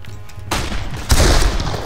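Gunshots in the Darkest of Days game: two loud, close blasts, the first at about half a second and a heavier second a moment later, each trailing into dense rumbling noise.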